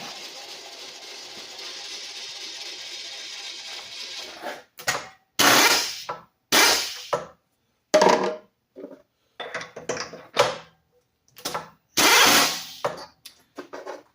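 A 2-inch boring head cuts a hydraulic pump snout in bursts, starting with a steady run and then a string of short, loud, separate passes with pauses between them.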